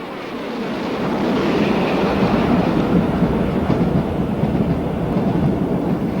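A Great Western King class steam locomotive hauls the Bristolian express, heard as a continuous heavy roar that swells in the first second and then holds steady and loud.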